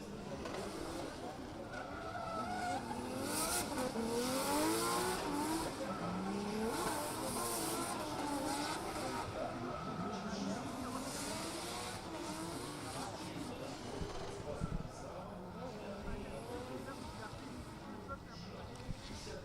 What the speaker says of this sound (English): Ala Zarif in this BMW E30.